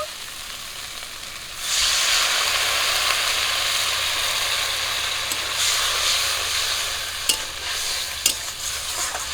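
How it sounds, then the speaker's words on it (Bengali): Fried spice paste of cumin, turmeric, chilli powder and salt bursts into a loud, close hiss as water is added to the pan, settling into steady sizzling with a few sharp clinks of a utensil. "মশলাগুলো একটুখানি ভেজে নিয়েছি এবার জল দিয়ে কষিয়ে নেব"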